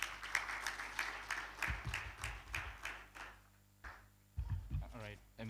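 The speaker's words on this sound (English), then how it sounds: "Let's applaud Mr." Applause from a crowd, a dense patter of clapping that fades, with talk over a loudspeaker breaking in near the end.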